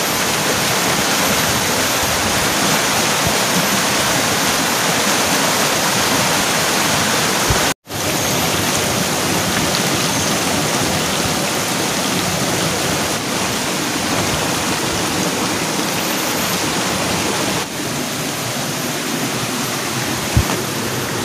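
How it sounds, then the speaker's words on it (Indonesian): Swollen, muddy river rushing after heavy rain, a loud, steady broadband roar of flowing water close by that carries on unbroken, with no talking. "habis turun hujan gede pisan tadi, jadi di sungai juga airnya keruh dan gede"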